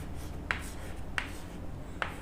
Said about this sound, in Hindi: अभी हम इसकी इक्वेशन लिखते हैं।